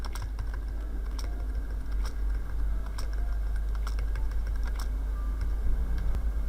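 Fingers type on a computer keyboard in quick, irregular bursts of light clicks over a steady low hum, close and moderately quiet.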